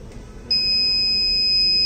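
A buzzer alert on an Arduino-based high-temperature fire protection unit for an EV battery system starts partway through and holds a loud, steady, high electronic tone with no voices.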